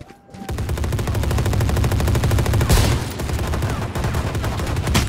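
Rapid automatic gunfire from a Valorant match, loud and sustained bursts with a near-continuous rattle and a sharp heavier shot midway, no talking over it.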